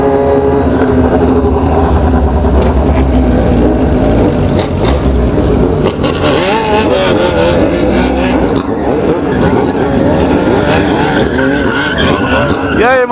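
A 2018 660 motorcycle revving loudly while being ridden, its engine rising and falling with rough, close mechanical roar, and people talking over it.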